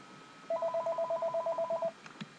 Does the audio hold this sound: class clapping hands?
no